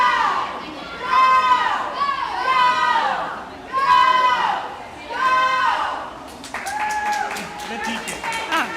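Teammates and coaches cheer at a swimming meet, their shouts rising and falling in repeated rhythmic bursts that pace a swimmer's strokes, with loud, excited voices carrying across the pool area.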